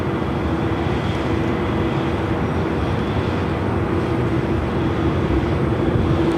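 A Korean Air Boeing 747-8i taking off at LAX, heard as a loud, steady jet engine roar with a broad rumble, unchanging and continuous with no voices.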